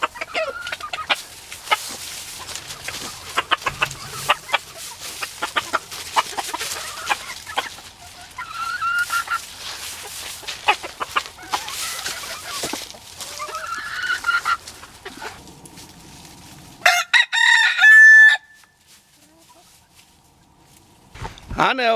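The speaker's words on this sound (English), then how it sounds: "I know everybody loves watching chickens" Chickens on a snowy farm during subzero cold cluck and squawk close by, with occasional louder honking calls and a brief rooster-like crow near the end, while voices murmur intermittently underneath.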